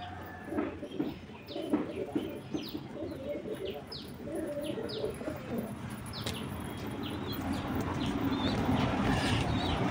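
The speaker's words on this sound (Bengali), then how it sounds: "আমার মনে হয় বুনো না নতুন একটা পায়রা এসেছে" Pet pigeons, with a newly arrived one among them, coo in soft repeated low murmurs alongside scattered chirps, close by over a steady background hum.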